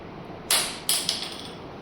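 The threaded mount of an Osaka 14-inch ring light is twisted clockwise, giving three quick, close creaking grinds in succession, each trailing off, with no voices.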